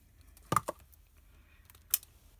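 Scissors snip olive ribbon at a paper-craft table. Two crisp, close cuts come about a second and a half apart in an otherwise quiet room.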